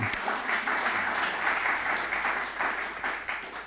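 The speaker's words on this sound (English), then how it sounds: "We can clap." Audience at an annual meeting clapping steadily, a continuous close burst of applause with no voices, holding level for the whole few seconds.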